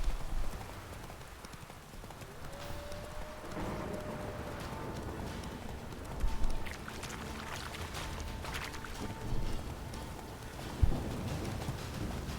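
Roach the horse galloping in Witcher 3, steady rhythmic clip-clop hoofbeats running throughout, close and clear, with a few louder thumps along the way and no talking.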